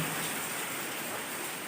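Steady rain falls around an old house, a dense, even hiss of drops from start to finish with no voices.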